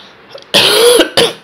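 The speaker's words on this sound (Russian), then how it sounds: "такой у меня кашель" Two harsh, loud, phlegmy coughs close to the microphone, one long and one shorter, after a brief quiet pause.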